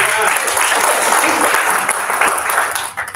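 Audience applause at a Christmas worship service in Semarang, Indonesia, a dense, steady wash of many hands clapping that carries loudly for the whole stretch and tapers slightly at the end.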